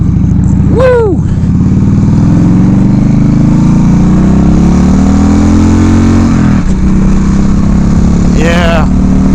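Engine of a 1996 Harley-Davidson Evo Low Rider motorcycle while riding, a loud, steady rumbling drone with rising and falling revs as the bike moves, and a voice briefly over it.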